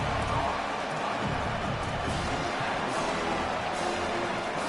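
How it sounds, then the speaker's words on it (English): A dense, steady roar from the home crowd fills an American football stadium on third down, loud and continuous throughout, with a commentator's voice faintly mixed into the din. "Here comes this home crowd as the defense tries to get off the field on third down."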